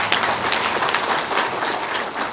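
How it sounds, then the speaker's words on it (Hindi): A large crowd at a party workers' rally claps loudly and steadily for a couple of seconds, a dense wash of applause with no talk over it. "इसके लिए हम चाहेंगे आप अपने लिए एक बार जोरदार ताली बजाएं"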